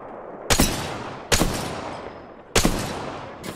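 Gunfire in the Apex Legends video game: four loud, sharp shots spaced roughly a second apart, each with a crack and a long decaying tail, with no talking.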